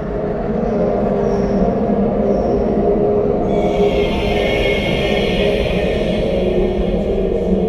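An underground train rumbles past in a loud, continuous low roar, with a hissing brightening of wheel and rail noise joining partway through and holding steady to the end.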